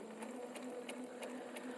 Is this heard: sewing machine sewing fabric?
yes